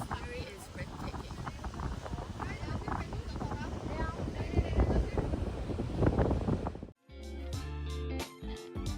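Strong, cold wind buffets the microphone outdoors in a constant rumbling roar, then cuts abruptly into music near the end.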